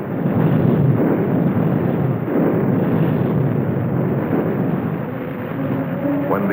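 Heavy, continuous rumbling barrage of airstrikes and naval gunfire explosions during the WWII battle of Iwo Jima, a loud, dense roar of overlapping blasts with a few sharper bursts, no talking.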